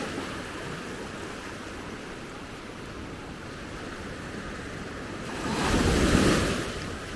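Steady surf rumbles along the shore at Maspalomas, Gran Canaria, with wind noise, then a larger wave swells and breaks loudly near the end.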